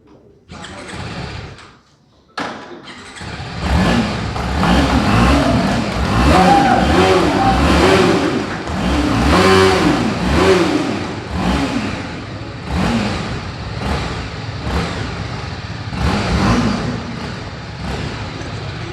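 A BMW G310 RR motorcycle engine revs loudly and close at a launch event in Cuttack, with a brief pause then sustained rising and falling revs and harmonic engine whine throughout.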